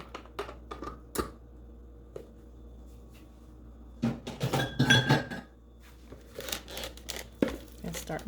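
Black bean burger ingredients with diced sweet onion get mixed in a bowl, with clinks and scrapes of a utensil against the bowl, quiet at first and then busier, and a voice talking at times.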